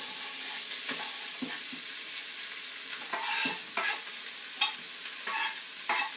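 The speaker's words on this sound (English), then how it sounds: "This olive oil is hot over here, as you can hear." Chopped celery and onion sizzle and crackle steadily in hot olive oil in a pan, with occasional stirring scrapes and bursts of spatter, moderately quiet and with no talking.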